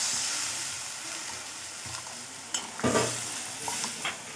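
Egg and coriander curry simmering and bubbling in a pan, a soft steady hiss with a few brief stirring scrapes and pops partway through.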